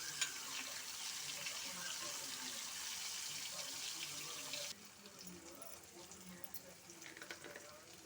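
Paneer cubes fry in a pan, giving a steady dense sizzle that carries on loudly and evenly, then drops to a quieter, patchier crackle partway through.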